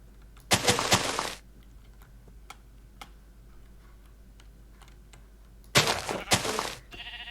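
Sheep bleating in the Minecraft video game, two loud close bleats, one near the start and one near the end, with faint ticking clicks between them and no voices.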